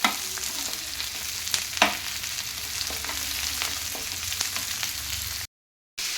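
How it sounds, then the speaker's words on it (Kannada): Sliced onion and capsicum strips fry in oil with a steady, close sizzle, broken by a few clacks of stirring and a brief dropout near the end. "ಇದನ್ನು ಫ್ರೈ ಮಾಡ್ಕೋಬೇಕು ಈ ರೀತಿ."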